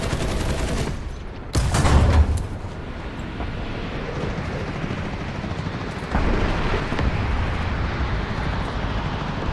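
T-72B3 tank main gun fired in War Thunder, a heavy blast followed by a rumbling battlefield din, with a second louder swell later, loud and dense.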